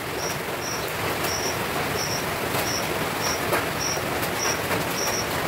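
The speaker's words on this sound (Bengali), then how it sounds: "প্রচণ্ড বৃষ্টি হচ্ছে" Heavy rain pours outside as a dense, steady hiss that fills the whole stretch, with a faint insect-like chirp repeating regularly over it.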